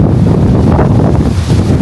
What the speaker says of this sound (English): It is exceptionally windy today.